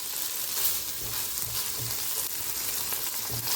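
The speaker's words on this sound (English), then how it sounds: "on high heat, we're going to keep frying everything together, constantly stirring" Beef, potatoes and vegetables frying on high heat, a loud, close, continuous sizzle broken by soft scraping knocks of stirring, with no talking.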